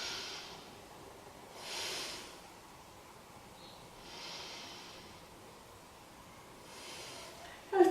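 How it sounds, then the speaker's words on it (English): Slow, deep breaths during a beginner yoga session, with several long soft airy inhales and exhales spaced a few seconds apart, close and quiet, with no talking. "Breathe down to the belly."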